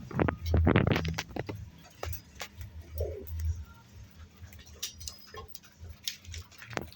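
Pigeons in a new coop coo softly while starting to build nests, amid clicks, taps and scraping handling noises nearby.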